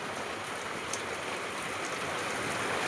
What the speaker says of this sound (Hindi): टेढ़ी बारिश आ रही है, टेढ़ी